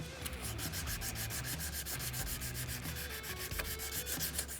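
Wood is rubbed by hand with 1000 grit sandpaper in quick, even back-and-forth strokes, a close, steady rhythmic scratching that continues without a break.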